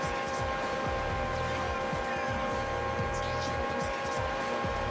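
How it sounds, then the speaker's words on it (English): A race car engine in the video game Gran Turismo 3 whines steadily at high revs, shifting through repeated gear changes in a rising-and-dropping sawtooth pattern, loud and continuous, with a tonal hum underneath. "I hope you like the sound of the engine."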